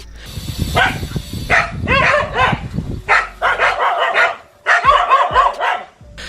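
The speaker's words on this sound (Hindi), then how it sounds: "अब यहाँ इन कुत्तों की गैंग ने इस झील में बैठे अकेले मॉनिटर लिजार्ड को घेर लिया" A pack of dogs barks and yelps in a rapid, overlapping chorus while chasing a lone monitor lizard through a lake, the barking close and loud with brief gaps.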